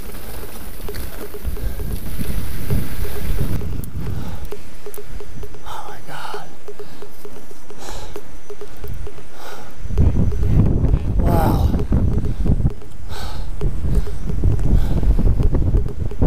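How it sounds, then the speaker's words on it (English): Strong wind buffets the microphone on a mountain bike trail near Mammoth Rock, a steady loud roar with heavier gusts near the start and again toward the end, with faint rustling and no clear speech. "Oh, it's windy."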